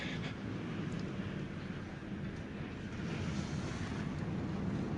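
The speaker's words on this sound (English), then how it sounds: "the raging ocean." Rough ocean surf pounds steadily during a hurricane, a continuous loud roar of crashing waves mixed with gusting wind buffeting the microphone, with no pauses and no voices.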